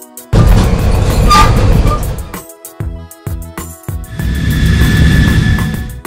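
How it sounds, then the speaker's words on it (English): Cartoon red commuter train rumbling loudly for about two seconds, then a short quieter stretch, then a sustained rolling roar with a steady tonal whine near the end, over light background music. "Red commuter train."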